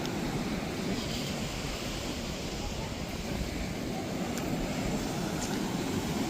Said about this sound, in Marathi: किती मोठ्या मोठ्या लाटा येतात इथे